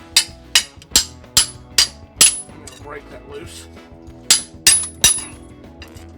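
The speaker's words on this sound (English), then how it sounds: "I'll hammer that nail bar underneath" Sharp metallic hammer blows strike a steel nail bar under carpet tack strips during bathroom demolition, in two bursts of rapid, evenly spaced hits, with someone briefly speaking between them.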